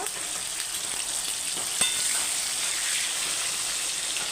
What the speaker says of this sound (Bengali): ভালো করে ভেজে আলু আর শালগমটা আমার ভাজা হয়ে গেছে